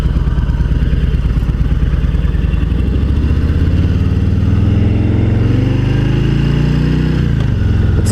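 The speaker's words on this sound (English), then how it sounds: "This engine brake is so good on this bike." A 2018 Harley-Davidson Street Bob rumbles loudly and steadily while engine braking, the low V-twin note sliding down in pitch as the bike slows, with no voices.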